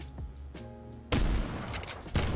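Gunshots in an online shooter game on an Oceania server: after a quiet stretch with a faint whistle, two heavy booming shots land about a second apart, loud and close.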